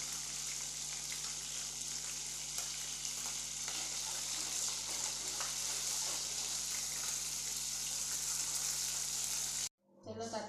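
Hot oil frying steadily in a pan, with a dense, continuous close sizzle that runs unbroken before cutting off abruptly near the end.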